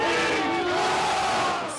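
A large crowd of rioters yells continuously at the U.S. Capitol, a dense, loud roar of many voices shouting together throughout with no pause.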